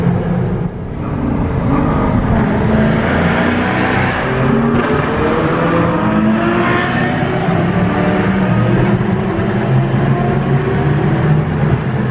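A powerful Ferrari V12 engine in a GTC4Lusso revs hard and loud, its pitch climbing and falling through sustained roaring pulls with no talking.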